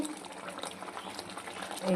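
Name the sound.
boal fish curry boiling in the pan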